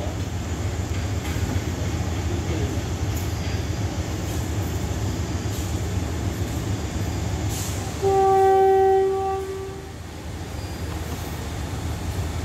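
An express train rolls steadily after pulling out of Phitsanulok station in Thailand, a continuous loud rumble of wheels and carriages with a long horn blast sounding partway through.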